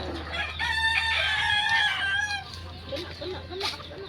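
Chickens and a rooster on a small farm, with a rooster's crow rising clearly over ongoing clucking, alongside a steady low hum.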